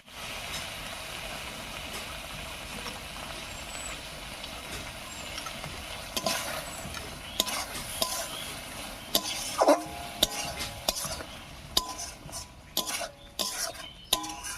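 Prawn curry with curd and cashew paste being stirred in a pan, a steady low hiss under scattered spoon scrapes and clinks that grow busier and more frequent toward the end.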